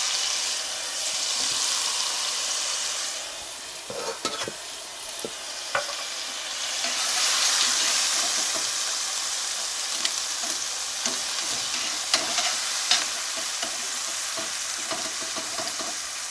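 Minced garlic and chopped shallots sizzle steadily in a hot pan over medium-high heat, a loud continuous frying hiss broken by scattered stirring scrapes and clicks, with no one speaking.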